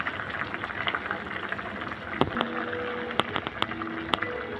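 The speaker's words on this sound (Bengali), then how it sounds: "দেখুন তরকারিটা কত সুন্দর বলক এসে পড়েছে।" Silver carp curry with cauliflower, potato, tomato, green chillies and coriander simmers at a rolling boil in a pot, a steady bubbling hiss with scattered sharper pops and a few brief clinks of the pot.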